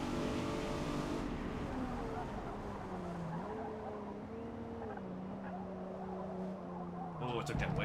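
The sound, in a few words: Nissan G35 engine revving in tunnel, Forza Motorsport video game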